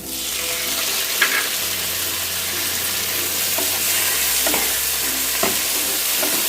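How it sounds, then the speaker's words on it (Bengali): Chopped tomatoes hit well-fried onions in a pan over a medium gas flame while palak paneer is cooked, giving a steady, loud sizzle with soft stirring scrapes throughout. "এবার আমি টমেটোটা দিয়ে দেবো।"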